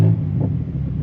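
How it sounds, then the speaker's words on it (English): A BMW M2 G87 idles with its exhaust valves open, giving a deep, steady, close-up rumble that holds for a brief moment. "if we open them up, you can immediately hear that idle."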